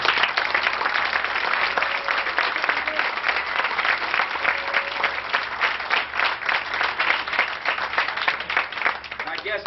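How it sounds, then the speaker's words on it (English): Audience at a high school awards ceremony applauding steadily, dense sustained clapping from a crowd for the whole stretch. "Give them guys a round of applause."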